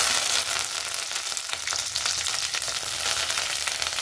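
Cumin seeds, mustard seeds and curry leaves frying in hot oil, a loud, dense, crackling sizzle that runs steadily and close throughout.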